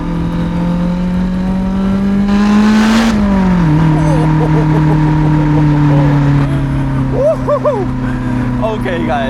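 Lotus Elise driving over a bumpy road, its engine holding a steady droning note that dips briefly with a gear change and a short rushing burst, with small rattles and a faint whine above.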